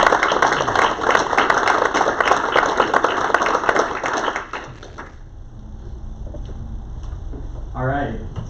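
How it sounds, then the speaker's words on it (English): A room full of people at a city council meeting claps steadily for several seconds, then the applause fades out, and a voice starts speaking near the end. "Maybe we'll give him a round of applause."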